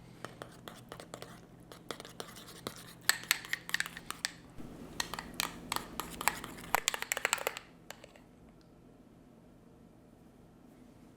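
Spices being stirred with a spoon in a bowl while preparing a steak sandwich: a quick series of close clinks and scrapes against the bowl, fairly loud, trailing off into quiet room tone near the end.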